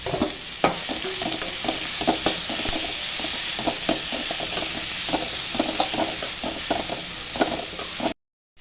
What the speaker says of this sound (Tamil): தக்காளியும் அதோடய சேர்த்து தக்காளியும் சேர்த்து வதக்கிடுவோம்